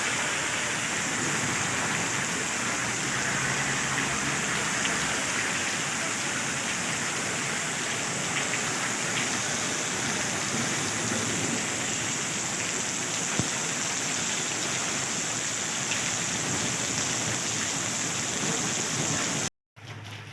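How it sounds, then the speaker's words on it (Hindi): Heavy rain pours steadily in Kashmir, a dense, continuous hiss of water drumming on surfaces, close and loud throughout with no voices, cutting off abruptly just before the end. "बहुत तेज़ बारिश लगी है।"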